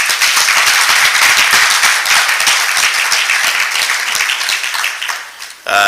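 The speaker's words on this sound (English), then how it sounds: "One more round of applause, if you don't mind." Loud, dense applause from an audience at an academy of science induction ceremony, many hands clapping steadily for about five seconds before cutting off abruptly.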